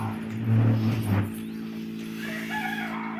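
A free-range country hen clucks while being settled onto her eggs, a few close low calls in the first second or so, then fading against a steady background hum.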